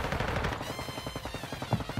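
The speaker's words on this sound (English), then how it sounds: "I hear so much gunfire." Rapid video game gunfire, a dense stream of automatic shots that rattles on without a break for two seconds, loud and close.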